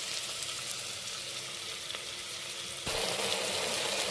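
Ginger garlic paste fries in a pan with peas, giving a steady close sizzle that grows louder and brighter near the end after a short clink, with no voices.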